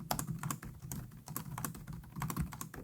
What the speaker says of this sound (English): And here's what the keys sound like.